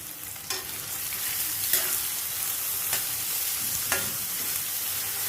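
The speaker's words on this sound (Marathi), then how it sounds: "आपण हे कढीपत्ता आणि कांदा घालून घेऊया छान असं परतून घेऊया" Curry leaves and onion sizzle in a hot pan with fried green chillies for a raw banana stir-fry, a steady close crackle broken by a few sharp scrapes of stirring.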